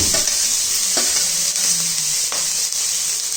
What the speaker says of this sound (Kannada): ಕಡಲೆ ಮತ್ತು ಉದ್ದಿನ ಬೇಳೆ ಗೋಲ್ಡನ್ ಬ್ರೌನ್ ಬರೋವರೆಗೂ ಫ್ರೈ ಮಾಡ್ಕೊತೀನಿ.